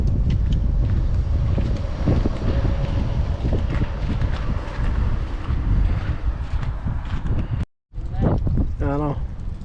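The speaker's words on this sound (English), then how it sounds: "Quite windy today." Strong coastal wind buffets the microphone in a steady, loud roar with gusting surges, broken by a brief dropout near the end, on the Yorke Peninsula shore around Ardrossan, Edithburgh and Stenhouse Bay.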